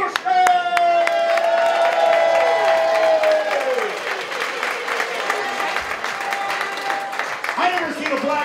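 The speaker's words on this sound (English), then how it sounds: "You should be used to this applause." A boxing event crowd applauds and cheers for a boxer, a loud, sustained wash of clapping that fades slightly, with an announcer's sustained call and voices over it.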